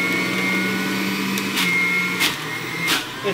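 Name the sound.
Breville juicer juicing parsley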